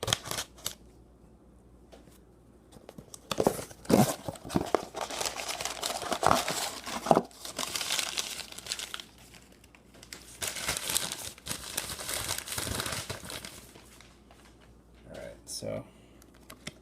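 A packaged T206 trading card being opened, with crinkling plastic, tearing and handling clicks that come in irregular bursts, close up and fairly quiet, between stretches of near silence.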